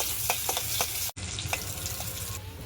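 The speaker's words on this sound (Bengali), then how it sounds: "পরিমাণ মতন পেঁয়াজ দিয়ে দিলাম। এখন আমি নাড়াচাড়া দিয়ে দিলাম।" Chopped onions fry in hot oil for a dried-fish curry, a steady close sizzle broken by soft scraping stir strokes and a brief dropout midway.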